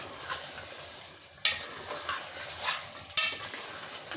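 Chunks of taro root (arbi) frying in a pan for bhindi gosht, with a steady close sizzle and two sharp stirring scrapes of a utensil partway through.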